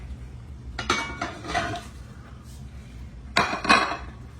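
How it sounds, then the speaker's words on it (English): Ground chuck going back into a metal pan, with a few clanks and scrapes of a utensil against the pan in two short bursts, close and fairly loud. "Then what I do is I put the ground chuck back in the pan."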